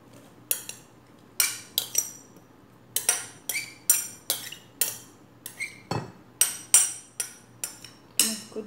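Grated carrot being mixed in a bowl for a homemade carrot cake, giving a run of sharp clinking and scraping strokes at a steady, fairly quick rhythm, close and clear with no talking.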